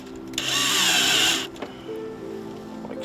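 Power drill driving self-tapping screws with locking washers into a vehicle fender, one loud high whir lasting about a second, then a few faint clicks and quiet handling.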